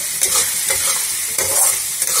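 Tomatoes frying in a pan give off a loud, close, hissing sizzle, broken by a few brief bursts of scraping and stirring, with no voices over it.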